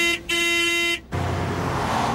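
A car horn blares in two sustained honks, a short blast then a longer held one, followed by rushing engine and road noise.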